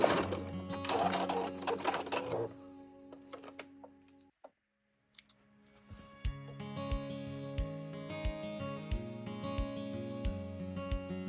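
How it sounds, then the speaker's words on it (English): A domestic sewing machine stitches down a tank top hem in a zigzag stitch, first in a fast rattling burst, then a short pause, then resuming with rhythmic mechanical clatter close by. "then stitch it down using a zigzag stitch"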